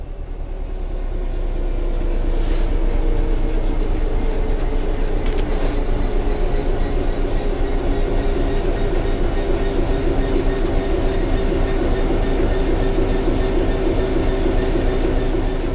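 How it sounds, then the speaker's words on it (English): A train coasting on level track in Train Sim World 3 rolls steadily and loudly, a continuous rumble with faint rail clatter and a brief squeal early on, no voices. "The train will then coast on level ground, and the train will only slow down very gradually."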